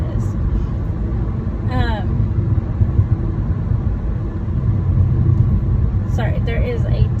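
Steady low road rumble and engine drone from inside a moving car driving through a construction zone, continuous and fairly loud, with a couple of brief voice-like sounds over it.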